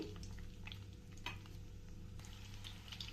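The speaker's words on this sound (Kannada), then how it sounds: "ಉದ್ದುದ್ದಕ್ಕೆ ಕಟ್ ಮಾಡ್ಕೊಂಡಿರೋಂತಹ ಒಂದು ಈರುಳ್ಳಿ ಸೇರಿಸ್ತಾ ಇದ್ದೀನಿ" Sliced onion, cut lengthwise, frying in a little oil for a biryani, a steady low crackle with stirring scrapes over it, close and moderately quiet, no talking.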